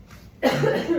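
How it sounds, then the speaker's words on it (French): One sharp, close cough breaks a moment of near silence, rough and throaty, with no talking around it. "Faut que je tousse."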